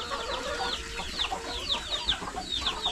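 Chickens on a backyard farm cluck and chirp continuously, several birds overlapping at close to moderate distance with a steady rural background.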